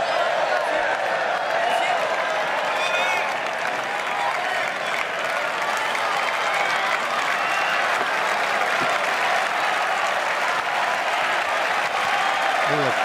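A large tennis crowd at the Roland-Garros men's final between Nadal and Djokovic applauds in a dense, sustained wash of clapping with a few cheers, steady and loud throughout, as faint voices come through underneath.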